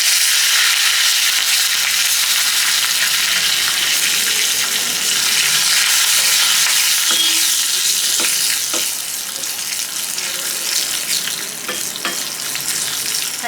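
Tempering spices sizzling steadily in hot oil for cucumber dal, a continuous loud hiss with occasional crackles and light stirring clicks, no talk.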